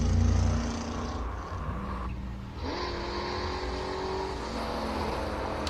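A Chevrolet Corvette Stingray race car climbs the hill at the Simola Hillclimb classic car event. Its engine roars loudly up close and rises in pitch as it accelerates past, with no one talking.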